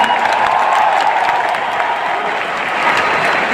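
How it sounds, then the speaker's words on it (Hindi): A seminar audience gives loud, dense, sustained applause that holds steady throughout, a continuous wash of many hands clapping with a slight crowd murmur underneath. "अरे ताली गिरा के बताओ"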